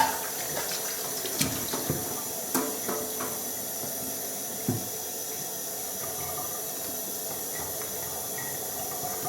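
Tap water runs steadily into a clean basin being filled for washing paint roller sleeves, a continuous close hiss and splash with a few small knocks, no one speaking.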